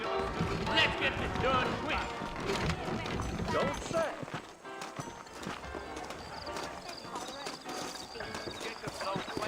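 Saddled horses in Red Dead Redemption clop along with steady, brisk hoofbeats, close and fairly loud, under ongoing conversation and a music score.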